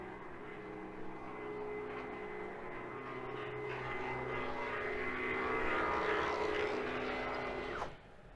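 Plywood workshop CNC router head travelling forward to its preset touch-off point, a steady motor and drive whine that builds gradually and cuts off sharply near the end, heard alone at close range.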